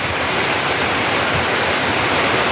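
Strong typhoon wind and heavy rain, a loud steady roaring rush with no breaks and no talk.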